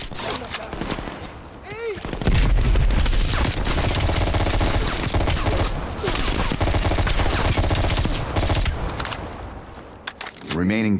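AK rifle fire in Call of Duty Black Ops Cold War, sustained loud automatic bursts layered with booms, with a voice speaking through parts of the barrage.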